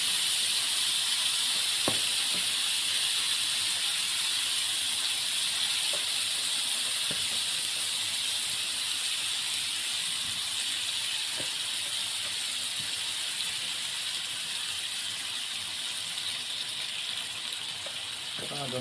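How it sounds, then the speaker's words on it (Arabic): Syrian shawarma meat sizzling in a pan without any oil gives a steady, loud hiss that lasts throughout, with a few faint clicks and pops now and then. "الشاورما بتاعتنا تتسمع"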